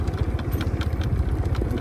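Italika WS 175 Sport motorcycle engine running steadily while being ridden on a smooth stretch, a low rhythmic thrum with mechanical clatter, close and continuous throughout.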